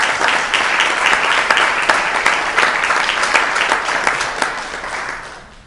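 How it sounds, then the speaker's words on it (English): A crowd claps steadily and loudly for several seconds at an oversight board special meeting, the applause thinning slightly toward the end. "So join me again in a round of applause."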